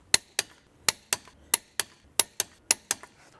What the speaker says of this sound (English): Now we're gonna go ahead and torque these down to 135 Newton meters or 100 foot-pounds.